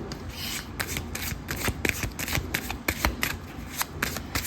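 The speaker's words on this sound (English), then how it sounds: "As I was shuffling, 2 more cards came out." Tarot cards being shuffled by hand close up, a run of quick papery riffles and soft rubbing strokes in a quiet room.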